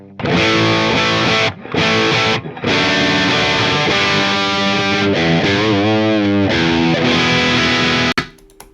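Loud, heavily distorted Epiphone electric guitar through a Marshall amp, sustained chords with a couple of brief pauses and a wavering note passage, ending abruptly.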